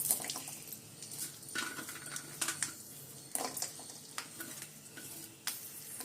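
Garlic frying in sesame oil in a kadai, stirred now and then with a utensil, giving a low steady sizzle under intermittent scraping and clinking, close and moderately quiet, with no talking.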